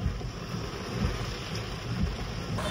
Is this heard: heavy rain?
yes